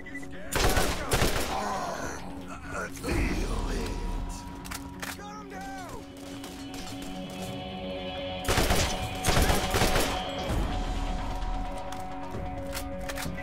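Gunfire in the video game Borderlands: several loud bursts of rapid shots at around one, three, and nine seconds, separated by quieter stretches of game ambience with clicks and thuds.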